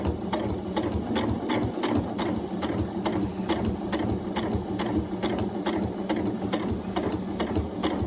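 A Janome Horizon Memory Craft 9480 sewing machine runs a long basting stitch, its needle tapping in a fast steady rhythm with a continuous motor hum, close and unbroken with no voices.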